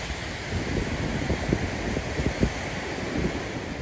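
A waterfall in the Cairngorms rushes steadily at a moderate distance, a broad, even roar with soft gusty texture and no voices.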